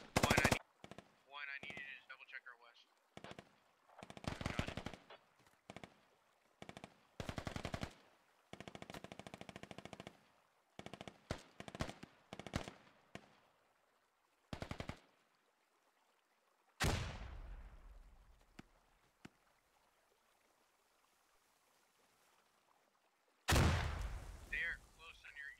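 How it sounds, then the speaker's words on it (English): Gunfire in the video game Squad: loud bursts of automatic fire and single cracking shots, some trailing off in long echoing decays, separated by quiet gaps. "He's just shooting north."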